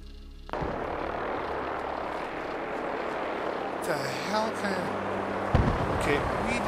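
Vertibird aircraft from Fallout 4 descending, a loud steady rotor and engine drone with brief whooshing swells partway through, with people talking over it.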